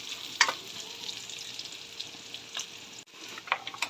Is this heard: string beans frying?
yes